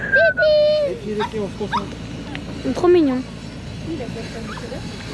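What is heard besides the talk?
dog whimpering and barking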